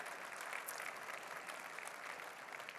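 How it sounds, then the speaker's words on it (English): Steady applause from a conference audience at a plenary session, a dense wash of many hands clapping at moderate distance, continuous and even throughout with no voices over it. "A round of applause, ladies and gentlemen."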